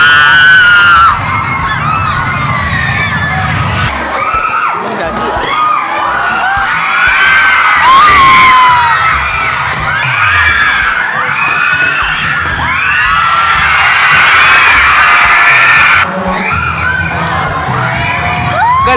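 A large crowd of schoolchildren at a school program shouts, screams and cheers loudly and continuously, like a concert audience, with whoops rising and falling throughout.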